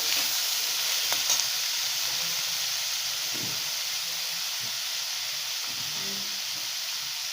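Ingredients sauté with salt and asafoetida in a pan, a continuous close sizzle and hiss with light stirring, no talking.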